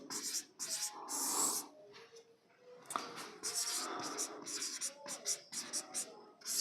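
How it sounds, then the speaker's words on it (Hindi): Chalk or marker scratching on a board during a Hindi physics lecture on plane mirror images, coming in short irregular strokes with pauses between them, fairly close and soft, with no talk over it. "उसी गुण को मैं यहाँ पे लिख लेता हूँ।"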